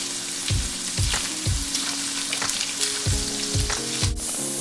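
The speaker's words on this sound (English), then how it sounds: "Saute it for about, I'll say about 1 minute on each side" Salmon fillet sautés and browns in a hot pan, a steady close sizzle running throughout with repeated low thumps and scrapes of the pan being handled.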